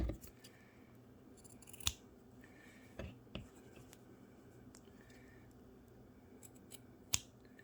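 Scissors snipping the fabric corners of a burp cloth, a few sharp isolated cuts spaced apart over a quiet background, close and crisp.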